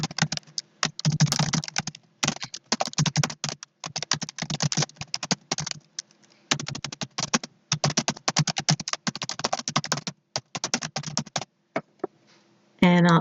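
Fast, close clicking on a computer keyboard while SQL is typed, coming in dense bursts separated by short pauses, with a brief voice at the very end.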